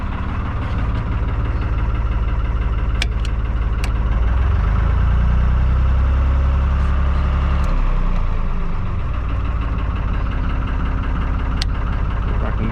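A narrowboat's diesel engine runs steadily just after being started, a loud, continuous low rumble with a slight rise in intensity partway through and a few faint clicks above it.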